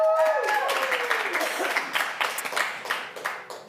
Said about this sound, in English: So let's cheer them on, show some love, and get this pitch party started.